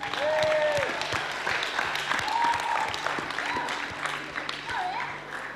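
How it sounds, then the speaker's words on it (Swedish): A church congregation breaks into sustained applause that holds steady for several seconds, with scattered cheers and whistles rising over the dense clapping. "Låt oss ge Jesus en applåd."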